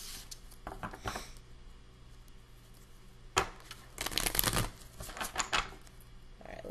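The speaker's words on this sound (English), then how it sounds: "shuffle this really well so everything's nice and mixed up." A deck of tarot cards is shuffled by hand in soft, papery bursts of riffling and sliding, quiet and close, with no talking.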